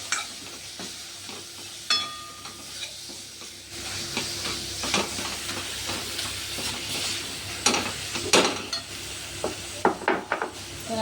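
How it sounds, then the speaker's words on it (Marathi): Lightly crushed spices sizzle in hot oil for chhole bhaji while a spoon stirs and knocks against the pan, the frying hiss growing louder partway through with sharp metallic scrapes. "जरा थोडंसं तेलामध्ये टाकून द्यायचे परतायला."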